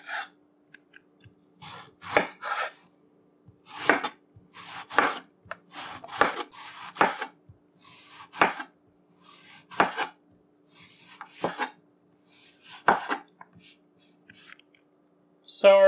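A knife chopping eggplant on a cutting board: about a dozen crisp, close strikes in uneven bursts, separated by short quiet gaps.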